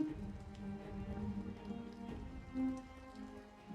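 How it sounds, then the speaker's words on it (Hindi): Heavy rain pours steadily at night outside a roadside tea stall during a thunderstorm, a dense, constant wash of falling water with no talking. "बिजली कड़की और भयंकर बारिश फिर शुरू हो गई।"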